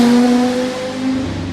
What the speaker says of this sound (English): The unmistakable noise of a Quattro.